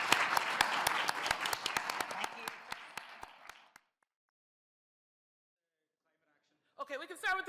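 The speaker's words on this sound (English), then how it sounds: "If you could all please give a round of applause to our speakers." Conference audience applause for the speakers at the National Social Enterprise Conference 2024, dense clapping that thins to scattered individual claps and stops, followed by silence and then a voice speaking.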